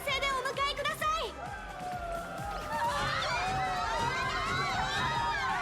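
A crowd of fans cheers in the video game Honkai Star Rail as guests enter a venue. Loud, continuous crowd noise blends with swelling voices and game music, and people talk over it.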